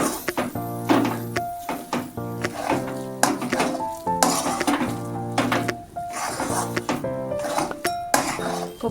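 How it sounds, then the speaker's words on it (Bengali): Metal spoon stirring dhokar dalna in a kadai over low to medium heat, giving repeated ringing clinks and scrapes against the pan in an uneven rhythm with faint sizzling beneath, close and clear with no talk. "ভালো করে নেড়ে নিচ্ছি এবং এইভাবে বেশ কিছুক্ষণ আমি কড়াতে নেড়ে নেবো ভালোভাবে"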